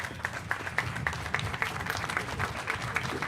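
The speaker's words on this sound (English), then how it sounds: "help me with a very big round of applause to bring up our illustrious mayor" An audience at a ribbon-cutting ceremony for a new middle school gives the mayor a dense, lively round of applause, continuous clapping from many people at moderate distance.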